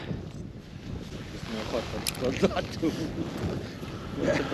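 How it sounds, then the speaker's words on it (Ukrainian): Wind buffets the microphone in a steady low roar during winter float fishing for roach after the ice has melted, rising into louder gusts toward the middle and end. "Фігово, що вітер в лице."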